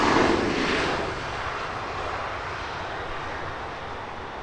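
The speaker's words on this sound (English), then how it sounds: "Next heavy arrival here on Heathrow's north side, United Airlines flight 904, 767-300ER in from New York." United Airlines Boeing 767-300ER arriving at Heathrow from New York, a loud broadband jet roar that peaks at the start and then eases into a steady, fading rumble.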